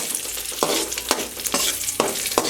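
Cashews and raisins frying in hot ghee sizzle steadily up close, with rhythmic scraping strokes of a spoon stirring them every half second or so.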